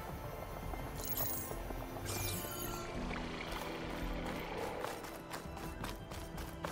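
A Snapmaw, a mechanical crocodile machine in Horizon Forbidden West, swims through water with a steady churning, splashing wash that runs continuously at even loudness alongside game ambience.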